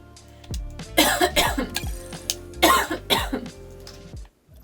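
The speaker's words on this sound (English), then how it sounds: "there's that like slight cough" Two pairs of short coughs and throat-clearing sound close up, fairly loud over a soft hum, with a steady tone in the background.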